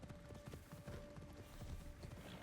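Horse hooves clip-clop in a steady, quick rhythm while riding in the Assassin's Creed Shadows video game, faint and even over a low background hum.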